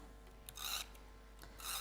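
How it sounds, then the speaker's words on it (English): Craft tape pulled off a roll and pressed down while assembling a handmade card, two short rasping strips of sound with quiet pauses between them, close up and fairly faint, no talking. "it's a funny little tape noise"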